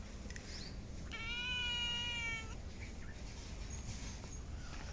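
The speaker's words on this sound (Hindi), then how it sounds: "आज एक बिल्ली यहाँ पे बैठी हुई है," A village cat sitting out in the sun gives a single drawn-out meow, fairly faint against a steady outdoor background hiss.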